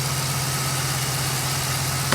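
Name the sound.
police car engine idling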